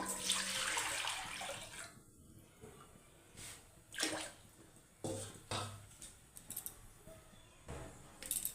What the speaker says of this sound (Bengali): কড়াতে জল দিয়ে দেবো